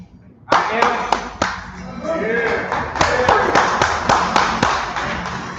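At a DC Ward 5 council campaign launch party for Zachary Parker, a few sharp, scattered claps ring out nearby, then swell into fuller applause and cheering that continues at moderate loudness, with some voices mixed in.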